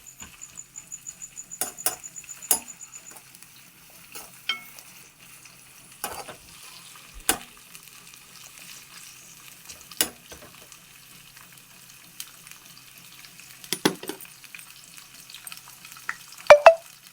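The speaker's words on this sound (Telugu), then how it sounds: "మెత్తళ్ళు కొద్దిసేపు బాగా వేయించుకోవాలి." Ground paste frying in hot oil for an eggplant curry, heard as faint, scattered crackles and occasional spoon scrapes against the pan, with quiet gaps between them.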